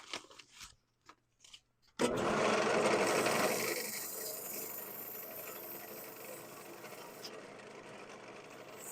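Turned wood spinning on a lathe is sanded with 220-grit sandpaper. A few soft taps come first, then a sudden, steady, fairly loud rushing hiss that gradually eases while it continues to the end.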